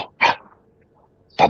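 A small Chihuahua gives two sharp, high barks about a second apart, close and fairly loud, with quiet in between.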